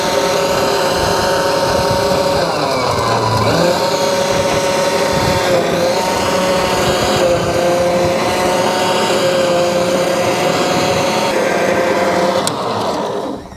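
A battery-powered lawn dethatcher runs steadily on an early spring lawn, its electric motor whirring with a continuous tonal whine and raking rumble up close, then cutting off at the end.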